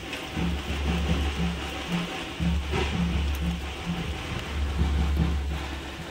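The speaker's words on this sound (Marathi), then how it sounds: "पाऊस बघा. पावसाचे दिवस पण नाहीत आणि पाऊस लागतोय. तुम्हाला आवाज येत असेल." Steady rain falls during a Konkan village wedding, a broad even hiss that continues throughout, with a rhythmic low hum pulsing underneath.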